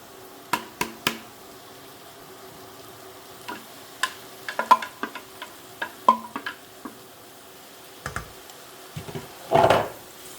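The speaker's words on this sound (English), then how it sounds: "you're going to need a little bit more so you can cook your 1 pound of button mushrooms that have been sliced" A pound of sliced button mushrooms fries in oil and sausage fat in a pan, giving sparse crackling pops and ticks over a low background, with a louder sizzling burst near the end.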